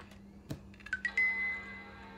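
An iBook G3 Tangerine laptop gives a short, faint startup chime: a quick bright tone that rings briefly, preceded by a few soft clicks and handling noises.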